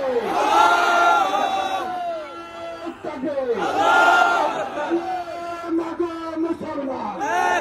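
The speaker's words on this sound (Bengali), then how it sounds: "দাঁড়িয়ে নারায়ে তাকবীরের ধ্বনি দিতে হবে" A large crowd at an Islamic religious gathering in Bangladesh roars the Nara-e-Takbir chant in two big surging call-and-response waves, loud and close, with a leader's voice calling between the shouts.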